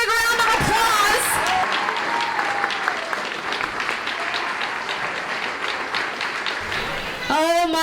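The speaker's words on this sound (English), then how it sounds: "Give yourselves a great big round of applause." Guests at a masquerade charity gala celebration clap in a loud, continuous round of applause, framed by a host's amplified voice speaking over the room at the start and end.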